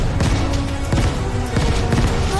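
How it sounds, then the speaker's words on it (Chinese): A flour dust explosion erupts in an animated robot action show, a rapid string of heavy, crackling booms and bursts rumbling loudly back to back with no talk. "是粉尘爆炸"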